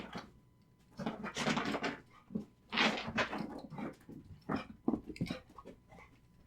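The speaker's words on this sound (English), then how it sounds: "my dog's doing zoomies" A dog doing zoomies indoors, with rapid scrambling bursts, panting and small whimpers spread across several seconds, close and moderately loud.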